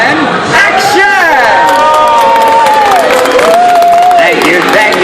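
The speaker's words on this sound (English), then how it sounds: "don't forget the thunderous applause from yours truly" A theme-park ride audience at Disney's Hollywood Studios on The Great Movie Ride bursts into loud, sustained cheering, shouting and applause, with excited voices and whoops rising over the crowd throughout.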